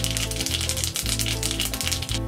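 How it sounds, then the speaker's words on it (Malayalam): Mustard seeds splutter in hot oil in a pan while a fenugreek sprout thoran is being made, giving rapid dense crackling pops that keep going without a break, close and loud over a steady tonal background. "കടുക് പൊട്ടിയിട്ടുണ്ട്."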